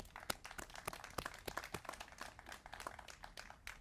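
A round of applause at an OpportUNITY Little Rock press conference: many hands clap in a dense, steady patter throughout, fairly soft and distant, with no voices over it.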